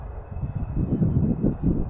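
The electric motor of an FMS Ranger 1220mm RC floatplane flying over snow drones close by and swells in pulsing waves as the throttle rises, a loud, buzzing whine with no voices.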